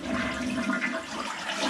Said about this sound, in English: if you really want it to flush good, you got to hold it right down manually